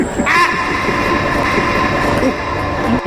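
Interior of an LRT light rail train running toward KLCC in Kuala Lumpur, a loud continuous rumble with rail hum and faint squeals throughout, a voice or two murmuring under the train noise.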